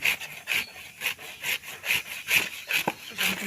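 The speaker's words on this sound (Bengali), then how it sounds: "ভালো করে ধুয়ে ঘষে নিই" Taro is washed and scrubbed by hand before cooking, making steady, close, rhythmic rubbing and scraping strokes at about three per second with no talking.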